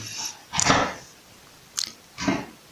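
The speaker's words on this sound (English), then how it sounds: "excuse my snoring dog." A dog snoring nearby: three rough, breathy snorts spaced unevenly, with quiet gaps between them.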